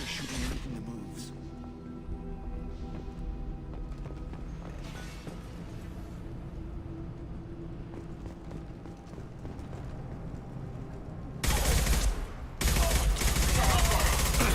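Gunfire from Blue Suns mercenaries in Mass Effect 2, scattered distant shots and bursts under a low game soundtrack, then a loud close barrage of rapid fire near the end.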